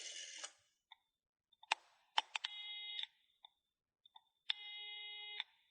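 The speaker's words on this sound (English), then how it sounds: "Simon used Gerald's phone to call the police." Telephone tones as someone places a call to the police: quiet clicks and short beeps, then two longer buzzing electronic tones, close and with no voices.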